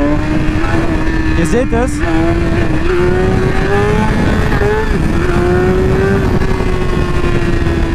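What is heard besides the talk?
BMW S1000RR motorcycle revving in first gear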